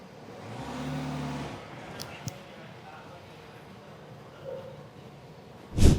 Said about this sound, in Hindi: अभी फिलहाल मैं गाड़ी को रन करवाता हूँ।